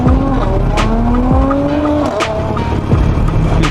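Modified, hopped-up Mercedes accelerating hard nearby, tires squealing in long rising and falling shrieks over a loud roaring engine, with a couple of sharp bursts along the way.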